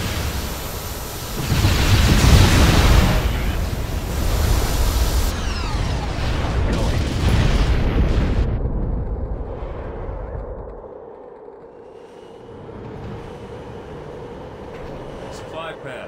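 Halo Wars bombing run, with a long roaring barrage of heavy explosions that swells loud, rumbles on for several seconds, then fades to a low hum with distant sounds.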